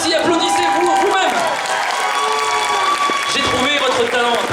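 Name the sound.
concert audience applauding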